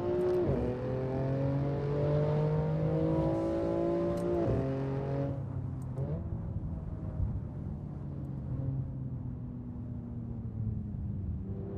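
Cars in a racing video game weaving through dense traffic, a Supra among them, with a steady loud engine drone whose tone climbs and drops through gear changes, then eases to a lower hum.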